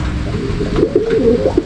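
Racing pigeons coo in a short run of soft, low, throaty calls, close and fairly loud, with a faint outdoor hush behind them.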